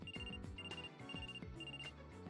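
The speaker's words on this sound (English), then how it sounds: "A phone call." A telephone rings in the Trauma Center video game: four repeated electronic ring bursts in a steady rhythm over backing music, with no voices.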